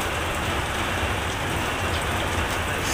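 Steady rain falls over a congested national highway with bumper-to-bumper traffic, a dense, even hiss of drops striking surfaces that holds at a constant level throughout, with no voices.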